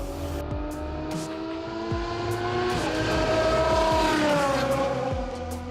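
Sergio Perez's Formula 1 car lapping at Silverstone, its engine screaming loud and close with a steady high whine that climbs and dips through gear changes over the whole stretch, no voices.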